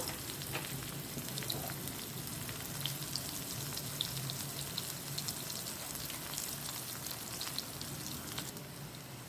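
Crushed garlic frying in hot oil as a tempering for rasam, a dense, even crackling sizzle heard up close and continuing steadily throughout.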